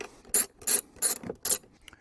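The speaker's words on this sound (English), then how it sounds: "the first thing we're going to need is a 5/16 socket wrench" A 5/16 socket wrench ratchets while loosening a bolt on a Ford Bronco during a grab handle install: four short, close bursts of rapid clicking with brief pauses between them, and no talking.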